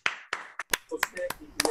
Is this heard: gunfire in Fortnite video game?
no